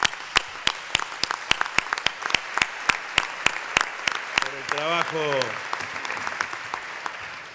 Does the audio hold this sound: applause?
yes